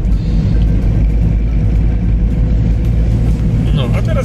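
A car driving on the road, with a continuous low engine and road rumble close up inside the cabin that stays steady throughout, and no talk over it.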